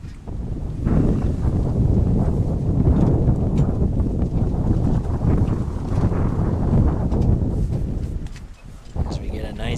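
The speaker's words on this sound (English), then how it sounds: "As we get a nice gust of wind through Connervale Park, kicking up some dust." Wind gusts across a baseball park during a college game, a steady loud rushing roar against the microphone that lasts several seconds before easing, with a voice talking under it.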